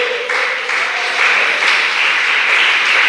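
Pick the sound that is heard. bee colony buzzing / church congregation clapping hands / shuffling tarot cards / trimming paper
church congregation clapping hands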